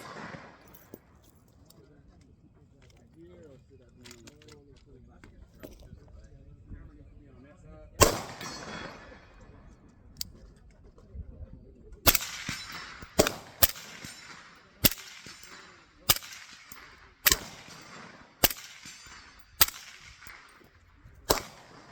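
Gunfire from a trunk gun at an outdoor shooting range: after a few quieter bangs, a steady series of about ten sharp, loud shots rings out at roughly one-second intervals, with a voice talking faintly underneath.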